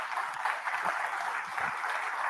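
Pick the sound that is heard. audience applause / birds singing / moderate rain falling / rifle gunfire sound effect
audience applause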